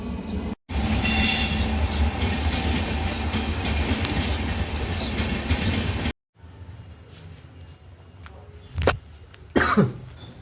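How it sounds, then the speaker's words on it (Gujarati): A train rumbles steadily past nearby, wheels clattering, then cuts off; afterward quieter ambience with a couple of sharp squeals or coughs. "ટ્રેન પણ આવી ગઈ."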